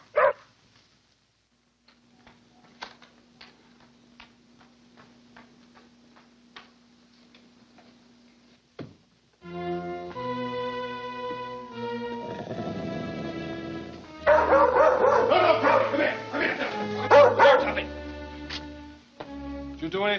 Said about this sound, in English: The dog's just vicious.